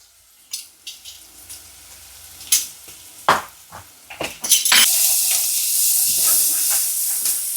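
Onions, garlic, smoked paprika and cumin sizzling loudly in a pan while being stirred, with sharp scraping clicks early on giving way to a steady, close frying hiss.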